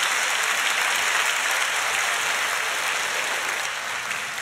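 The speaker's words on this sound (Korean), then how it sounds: "우리 감사의 박수 하겠습니다." Church congregation applauding in thanks during a Sunday worship service, a dense steady wash of many hands clapping that holds evenly throughout and tapers slightly at the end.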